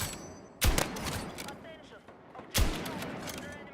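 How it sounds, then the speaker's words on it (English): Two sharp, loud sniper rifle shots land about two seconds apart in a first-person shooter, each a hard crack with a short echoing tail over a quiet game background while someone talks. "If you don't get a headshot, like I just did there, rechambering takes... rechambering is worse than reloading."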